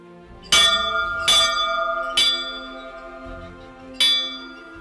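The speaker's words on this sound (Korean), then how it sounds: "예배 시간 알리는 종인 것 같아요." Church bell in a Greenland village rung to call people to a service: four loud, clear metallic strikes at slow, slightly uneven intervals, each leaving a long shimmering ring that fades between hits.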